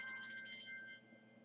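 A new telephone rings with a steady electronic tone that fades after about a second, leaving a low room hum, fairly faint and with no talking over it.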